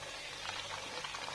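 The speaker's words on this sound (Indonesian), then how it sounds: "Aku goreng dulu ya, jangan gosong." Chicken frying in a pan over a low flame, giving a steady close broadband sizzle and crackle that runs unbroken without any talk.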